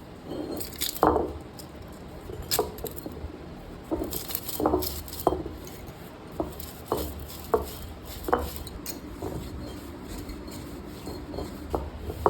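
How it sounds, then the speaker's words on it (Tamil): Repeated scraping and crushing strokes as dry masala spices are ground on a stone grinding slab, irregular rhythmic grinding and knocking close by, with no talking. "இப்போ இதை அம்மியிலேயே அரைச்சி எடுத்துப்போம்."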